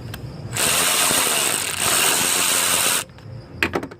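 A wrench, sounding power-driven, removes the 10mm nut from the battery terminal of a Mazda RX-8. A loud, steady mechanical whirring burst runs for about two and a half seconds, followed by a few sharp metallic clicks and knocks.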